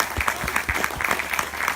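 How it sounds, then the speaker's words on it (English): A short round of applause for a youth conservation panel at a bird fair, moderately loud and steady, with individual claps distinct in the crowd. "So just give you a big round of applause."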